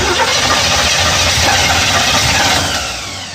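An engine with a rebuilt Holley carburetor runs loud and close, its rough, knocking roar holding steady before easing off at the end.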